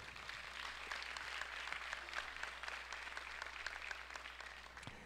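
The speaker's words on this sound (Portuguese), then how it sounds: "Quem entende isso, dá uma salva de palmas para o Senhor Jesus" Church congregation applauding steadily, a dense even wash of many hands clapping, moderately faint and continuous with no talk over it.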